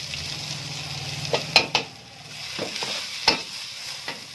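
Onion, capsicum, carrot and cabbage stir-fry in a hot pan for spring rolls, a soft sizzle punctuated by several sharp spatula clacks against the metal.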